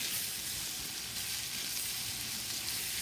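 Garlic shrimp frying over high heat in a hot pan, a steady, dense sizzle that holds evenly and close throughout with no talking.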